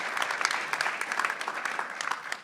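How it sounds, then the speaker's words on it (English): Moderate round of audience applause at a USC convention session, steady dense clapping throughout with no speech over it. "give him a bit of a round of applause"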